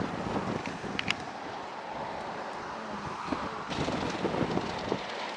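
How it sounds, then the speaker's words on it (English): Strong wind during a Texas tornado outbreak storm, a continuous loud roar buffeting the microphone with gusts that swell and ease, no voices. "this wind is crazy"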